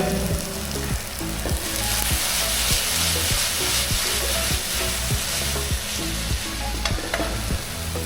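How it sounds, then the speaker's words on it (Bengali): Octopus frying in a pan at a seaside food stall in Digha, a loud, dense, steady sizzle with a quick rhythmic series of spatula scrapes and knocks as it is stirred. "আমাদের অক্টোপাস রান্না চলছে"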